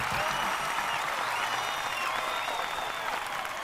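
Continuous applause from a crowd in a drama scene, steady and fairly loud throughout, with faint voices and a few cries rising over the clapping.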